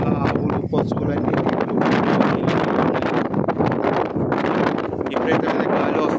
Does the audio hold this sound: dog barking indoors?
no